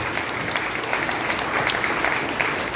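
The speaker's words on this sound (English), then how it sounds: "give them a round of applause" Steady applause from an audience at a Hebrew summit Sabbath service, a dense, even wash of many hands clapping close by and holding at a constant level throughout.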